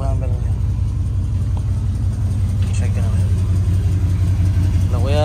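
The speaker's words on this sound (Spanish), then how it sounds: "para que puedan ver y escuchar de mejor manera su motor" A 1969 Ford car engine idling, a steady low rumble throughout, with a voice talking faintly over it.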